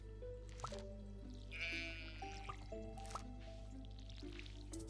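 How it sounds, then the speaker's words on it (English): Gentle dripping and splashing from a watering can in Stardew Valley, with soft game-style water pops over a steady musical background of plucked notes and a brief bleating sheep. "Sorry, I'm watering my plants."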